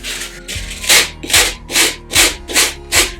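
Soft spray foam is scraped with a tool in six evenly spaced rasping strokes, each a loud, close, rough scrub about half a second apart.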